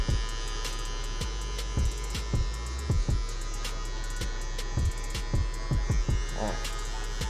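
An electric hair clipper fitted with a 1.5 guard comb cuts hair in a close, steady buzz over a constant mains-like hum, broken by repeated short clicks and rustles as the blade strokes through.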